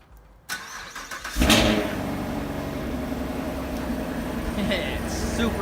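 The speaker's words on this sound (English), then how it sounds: "let's get that cold start up on a stock LT1" A stock LT1 V8 in a Chevrolet Camaro SS cranks over and fires on a cold start with a sharp loud roar, then settles into a deep, steady, rumbling idle that fills the rest of the clip.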